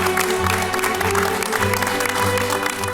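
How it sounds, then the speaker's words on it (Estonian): Applause for a new young champion at an Estonian young masters car-painter competition, a steady wash of clapping filling the moment with music or hum underneath. "Ja palun eriti suur aplaus uuele noorele meistrile,"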